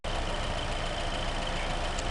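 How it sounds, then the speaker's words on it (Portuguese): A car engine idles steadily during a phase sensor test, a constant close mechanical hum with a fine even whir and no talking. "o motor já está funcionando ali, como dá pra ouvir"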